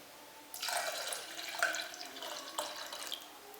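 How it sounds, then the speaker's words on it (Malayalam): Milk poured into a pot of fenugreek rice porridge (uluva kanji), a soft liquid splashing and trickling that starts abruptly, with a second pour partway through, close and fairly quiet. "ഇനി ഇതിലേക്ക് 1 പാൽ ചേർക്കാം."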